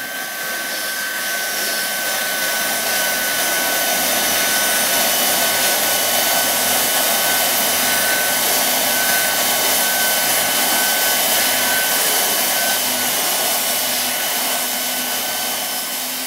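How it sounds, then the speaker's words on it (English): A Leister hot air tool blows steadily and loudly throughout, a continuous broadband whoosh used for HDPE liner extrusion welding, with no talk over it. "first we're using the leister"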